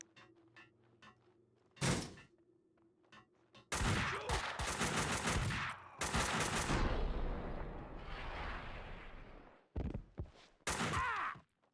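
Kalashnikov rifle fire in the video game Max Payne 2 comes in loud sharp bursts of rapid automatic shots separated by quiet gaps, with an echoing burst near the end.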